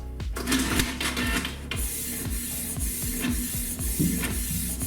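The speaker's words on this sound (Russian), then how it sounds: "Устанавливаем листок и выбираем тестовую печать." A Canon PIXMA G1411 ink-tank printer runs a test print, its mechanism whirring with a quick run of rhythmic clicks and thumps as the sheet feeds and the print head travels, loud and close.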